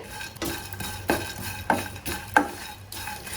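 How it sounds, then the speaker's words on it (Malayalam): Dried prawns dry-roasted over a medium-low flame, stirred and scraped around a hot pan, with a few sharper clinks of a utensil against metal over a low background hiss. "ഇപ്പം ഞാൻ ഈ ചൂടായ പാനിലേക്ക് കൊഞ്ചിട്ട് കൊടുക്കുകയാണ്. ഇത് നന്നായിട്ടൊന്ന് വറുത്തെടുക്കാം."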